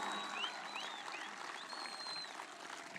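An audience at a political speech applauds with a faint, dense, even patter of clapping from a distance, while a few thin bird chirps sound above it.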